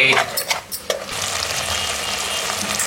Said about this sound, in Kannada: ಸ್ವಲ್ಪ ಹಸಿ ವಾಸನೆ ಎಲ್ಲ ಹೋಗೋವರೆಗೂ ಫ್ರೈ ಆಗಲಿ